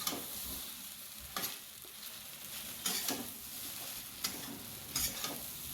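Sabudana khichdi being stirred in a pan as it cooks, a soft steady sizzle broken by several scraping spoon strokes at irregular intervals, close and moderately quiet, with no voices.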